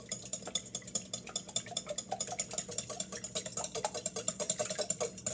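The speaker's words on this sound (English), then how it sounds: "you need to whisk these first, because, you know, eggs have yolks" Eggs are whisked in a bowl, the whisk clicking in a fast, steady rhythm of close, clear strokes against the sides, continuing throughout without any speech.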